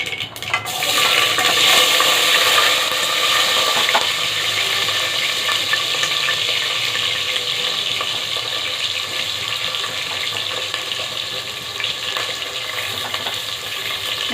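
Vegetables for sambar dropped into a hot pan and frying, a steady loud hiss and sizzle that starts suddenly and carries on evenly with faint stirring, no voices.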